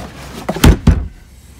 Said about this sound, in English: So the next thing that we need to do is flip our shelf out of the way.